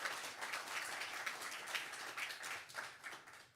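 Audience applause for poet Jay Rogoff at a poetry night, a steady dense clapping from a crowd, moderately loud and sustained with no talking over it.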